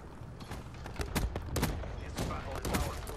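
Gunshots in a video game crack out one after another, loud and near, with sharp separate reports spaced roughly every half second over a rumbling background.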